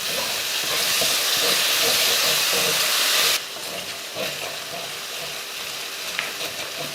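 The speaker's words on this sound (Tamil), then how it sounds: "தயிர் போட்டு இது போல் வதக்கினதுக்கப்புறமா" Onion masala with curd sautés in a pan for a chicken dish, giving a loud, steady hiss that drops sharply to a quieter sizzle halfway through, alone without talk.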